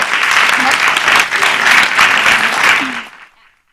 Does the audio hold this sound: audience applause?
yes